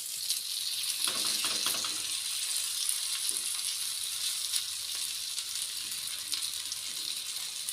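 Hot oil sizzles around poi leaf bara fritters in a continuous bright crackling hiss, close up and fairly even, with a brief scrape or two from stirring and no voices.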